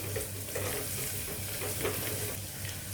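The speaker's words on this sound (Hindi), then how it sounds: "फ्लेम को लो रख के 1 मिनट अदरक लहसुन को भून लेना है हमें।" Ginger garlic paste sizzles and fries quietly in a pan on low heat, with soft stirring scrapes over the steady crackle.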